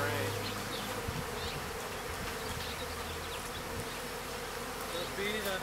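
Dense, continuous buzzing of many honey bees at a hive fills the air close by, a steady droning swarm with faint voices murmuring underneath.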